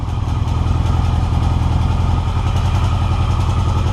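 A 1982 Yamaha XJ650 motorcycle engine idling loud and close on a first start, a steady rapid thrumming pulse with mechanical clatter throughout.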